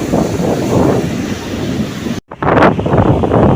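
Sea waves and wind roar at Thrasi beach beside a national highway, a loud continuous wash of surf and gusts buffeting the microphone, with a brief dropout partway through.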